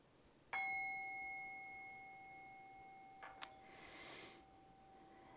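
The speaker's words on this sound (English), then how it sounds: "And I will ring the bell once to begin and 3 times to end" A meditation bell is struck once, a clear ringing tone that sounds suddenly and slowly fades in a quiet room, followed by faint breathing.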